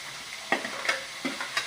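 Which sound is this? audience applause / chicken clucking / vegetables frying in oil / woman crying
vegetables frying in oil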